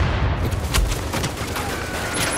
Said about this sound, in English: And he throws a freaking grenade at me?